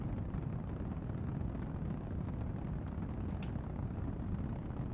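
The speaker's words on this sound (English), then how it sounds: "Do love that sound from that engine" Rocket engine burning in Kerbal Space Program: a continuous, loud, rumbling roar with a broad hissing texture, steady throughout with no voices.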